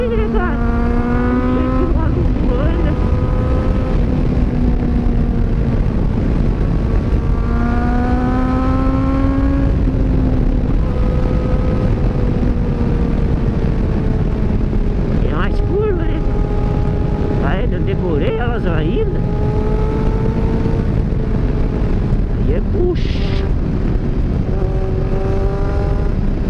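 A Kawasaki Z900 motorcycle races down a mountain road in second gear, its engine a loud, steady, high-revving roar with rising and falling pitch through the whole stretch, under intermittent talk.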